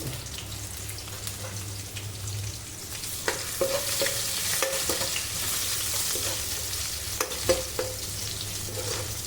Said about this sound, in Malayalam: വെളുത്തുള്ളി എണ്ണ കിടന്ന് മുരിയുന്നു